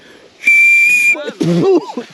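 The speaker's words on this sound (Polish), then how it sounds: "Co, gwizdek oficerski, czy co to będzie?" A shrill, sustained blast on an old officer's whistle dug up during a military relic hunt, sounding loud and close for about a second before people talk briefly.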